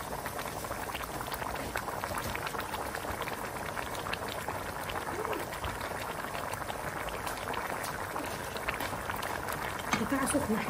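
Rice simmers in a pot of boiling water, giving a steady close bubbling and gurgling that continues throughout, with a brief clink near the end.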